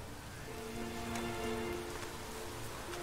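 Steady rainfall in The Witcher 3: Wild Hunt patters down continuously, a broad hiss with occasional louder drops and a faint tonal hum underneath.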